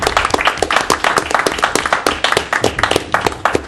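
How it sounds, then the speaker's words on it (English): Applause for a departing member at a town council meeting, a dense, steady run of many hands clapping close by, filling the room without pause. "So I'd like to give Ed a round of applause, please."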